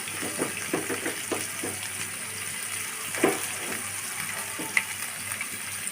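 Ginger garlic paste, onion paste and chopped onions sizzle in a hot pan for a chicken roast. A steady, hissing fry runs close by with a few louder crackles and spits.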